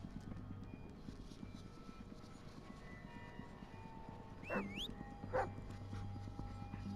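A dog in the Blair Witch video game on Nintendo Switch gives two short, rising yelps or whimpers a second apart over a low hum and faint ambient noise, with no talking.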